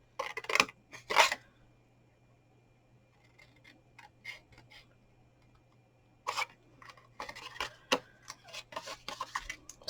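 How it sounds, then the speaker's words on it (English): Scissors cut through card in short crisp snips, a pair of quick close bursts and then a denser run of snipping and rustling in a quiet room. "Probably a longer pair of scissors would cut this straighter for you."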